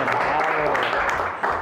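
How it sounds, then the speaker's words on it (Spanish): Brief burst of steady applause from a studio audience during a Spanish-language National Journalist's Day program, dense and fairly loud throughout. "pero un aplauso"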